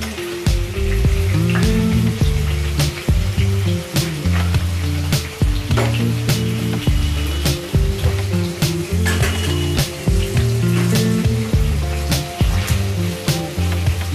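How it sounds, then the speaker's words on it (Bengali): Paneer, 250 grams, fries lightly in a pan with a steady, loud sizzle and crackle, and occasional sharp pops and clinks run through it. No one speaks. "বেশি ভাজলে পনিরটা একটু শক্ত শক্ত হয়ে যায়। ওই জন্য অলওয়েজ আমি পনিরটা হালকা করে ভেজে নিই।"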